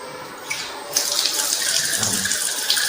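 Running tap water pours steadily during ritual ablution handwashing, a continuous broadband hiss that gets louder after the first second as the flow reaches the forearms, close and alone with no talk.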